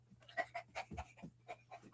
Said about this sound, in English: What are you panting for?